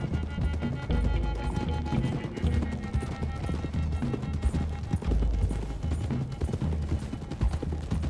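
Galloping horse hooves pound steadily in a video game, a rhythmic clip-clop under ambient game sound, with brief scattered talk.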